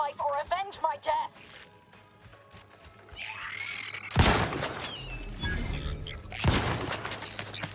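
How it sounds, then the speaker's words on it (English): Shotgun blasts in the video game The Outer Worlds 2: a sudden loud, broadband burst after a stretch of speech, then a dense rumbling tail with a second sharp blast near the end, mixed with game ambience. "Let's try the shotgun."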